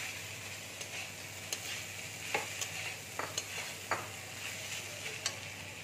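Soybean chunks fry in a spice mixture in a pan while being stirred: a faint steady sizzle with scattered soft scrapes and taps from the spoon, close by and without voices.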